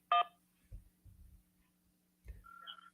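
A single telephone keypad tone sounds as 1 is pressed to accept an incoming call, short and bright. A few low thumps and a faint electronic tone follow over a quiet line.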